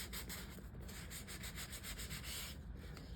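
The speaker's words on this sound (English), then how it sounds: "as you can see, it's just a light sanding." Soft, rhythmic rubbing strokes of sandpaper lightly scuffing the finish on a leather car seat, close and quiet, repeating in even back-and-forth passes with no talk.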